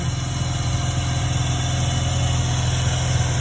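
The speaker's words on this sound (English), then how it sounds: "I just enjoy watching the 13B rotary come right along, idle nice." A Mazda 13B rotary engine idles with a Racing Beat double pulley belt system, giving a steady, close, even low-pitched drone with a fast, regular pulse and constant whine throughout.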